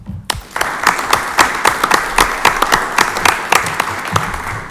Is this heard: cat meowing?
no